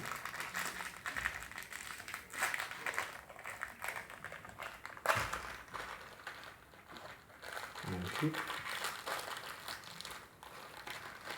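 A package of yellow Oreo cookies is torn open, with crinkly plastic wrapper rustling and crackling up close in several bursts while a voice talks over it.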